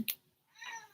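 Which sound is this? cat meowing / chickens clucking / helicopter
cat meowing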